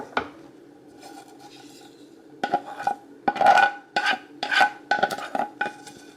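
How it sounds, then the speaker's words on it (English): Chopped vegetables tumble into cooked pasta in a big red mixing bowl, producing irregular bursts of clattering, rubbing and scraping against the bowl after a brief quiet start. "now I'm going to go ahead and add all of the veggies"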